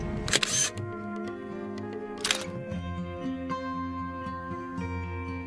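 A camera shutter fires for a selfie: two short, sharp clicks about two seconds apart, close and crisp over a quiet background with faint tonal hum.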